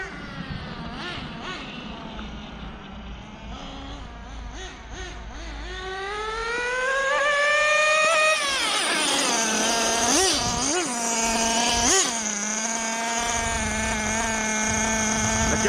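Nitro engine of a HoBao Hyper VS2 RC car, a v18 with a HoBao T4 glow plug, buzzes at a high idle, then climbs into rising revs with several sharp throttle blips, loud and close.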